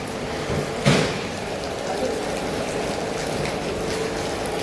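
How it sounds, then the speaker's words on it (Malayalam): Steady hiss of light rain falling, with a single sharp knock near the start; no voices. "കാലാവസ്ഥ ഒക്കെ മാറി ഇങ്ങനെ ഒരു ചെറിയൊരു മഴയൊക്കെ തുടങ്ങി"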